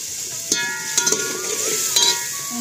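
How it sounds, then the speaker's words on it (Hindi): Potatoes frying in a pan of masala while being stirred, a steady soft sizzle broken by a few sharp scrapes and clinks of the spoon against the pan. "थोड़ा आलू डालेंगे इसे।"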